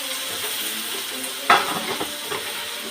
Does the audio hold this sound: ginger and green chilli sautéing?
yes